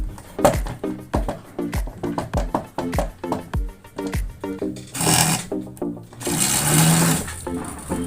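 An old sewing machine stitches stretch gabardine with lycra, giving a fast run of loud, rhythmic mechanical thumps close up, then a brief whirring burst and a harsher grinding stretch near the end.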